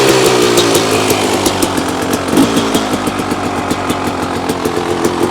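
A 2024 Beta motorcycle engine fires up and settles into a loud, close, rapid idle with an even, pulsing beat that stays steady, with no speech.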